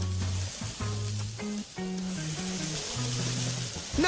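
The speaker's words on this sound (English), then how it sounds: "No one can resist the call of the sizzle." KFC griddled chicken sizzling on a hot griddle, a steady bright hiss running under a prominent musical jingle throughout.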